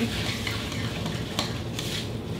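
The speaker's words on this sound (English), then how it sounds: "I'm just gonna give it a little stir at this point" A spoon stirs a mini meatloaf mixture of ground meat and crushed cereal in a bowl, producing a soft, steady, close scraping and mushing texture without speech.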